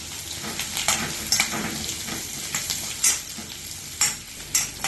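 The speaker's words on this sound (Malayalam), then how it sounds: "ഇതിലേക്ക് ഒരു സവാള ചെറുതായി മുറിച്ചതും 1 കഷ്ണം ഇഞ്ചി ചെറുതായി മുറിച്ചതും 1 പച്ചമുളക് മുറിച്ചതും കുറച്ച് കറിവേപ്പിലയിട്ട് വഴറ്റാം" Chopped onion, ginger, green chilli and curry leaves are sautéed in a pan for wheat rava kichadi, giving a steady close sizzle and frying hiss broken by repeated scrapes of a stirring spoon, with nobody talking.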